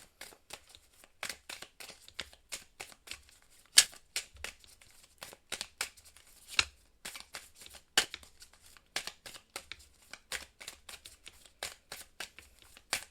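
Oracle cards shuffled by hand in quick, crisp riffling bursts, close and dry, with short pauses between flurries and no talking.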